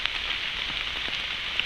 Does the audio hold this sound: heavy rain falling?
yes